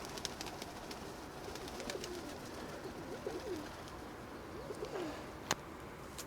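Soft pigeon coos repeat a few times in a low, rolling pattern against steady outdoor background noise, with a sharp click near the end.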